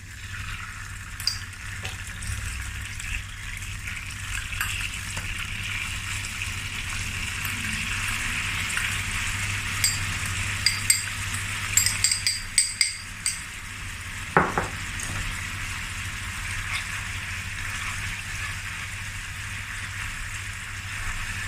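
Garlic sautéing in oil in a pan, with honey and soy sauce added, giving a steady soft sizzle broken by light clinks and scrapes of a utensil against the pan.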